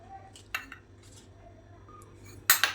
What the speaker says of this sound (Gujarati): ચમચીની મદદથી બધું મિક્સ કરી એક પિઝા માટેનો સોસ તૈયાર કરી દઈશું